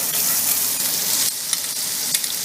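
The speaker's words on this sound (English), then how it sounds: "Turn this heat down, and we're going to use this grease to caramelize the onions." Onions caramelizing in leftover pork chop grease over lowered heat sizzle steadily and loudly, with a brief dip partway through and a few sharp crackles and pops near the end.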